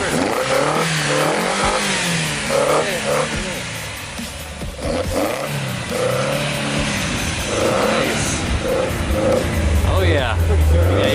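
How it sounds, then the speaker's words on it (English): A 1973 Jensen Healey engine revs repeatedly, rising and falling in pitch, with people talking over it throughout. "Could you rev it up a little bit?"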